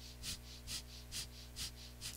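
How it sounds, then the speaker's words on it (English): Quick rhythmic exhales forced out through the nose during a yoga breath-of-fire kriya, about five soft, evenly spaced puffs over a steady low hum, close and quiet. "you'll find a little breath of fire. Little whispers, exhales right out the nose"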